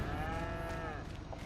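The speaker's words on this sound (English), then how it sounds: "I've got 20 Holstein cows, dairy cows here." A Holstein dairy cow in the video game Farming Simulator 25 gives a single long moo, low and drawn out, heard clearly over a steady background hum.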